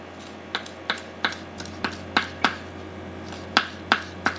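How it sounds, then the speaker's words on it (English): A knife chops green onion on a cutting board in a home kitchen: about a dozen crisp, light taps in an uneven rhythm, close and clear over a faint steady hum. "And then I also wanna cut up some green onion."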